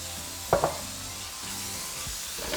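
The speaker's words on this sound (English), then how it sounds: "Begin to mix it in." A spoon stirs roasted hatch peppers into a flour-thickened sauce in a pot, with a couple of sharp clinks and a soft, low sizzle and scrape underneath, close and alone.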